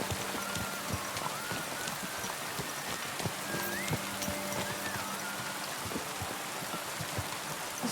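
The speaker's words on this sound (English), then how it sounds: "Pissing down rain." Rain pours steadily in a medieval open-countryside scene from Kingdom Come: Deliverance II, a constant hiss of drops with faint horse hoofbeats clopping underneath.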